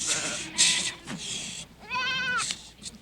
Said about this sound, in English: almost 500 goats at last are gathered near Namche Bazaar and driven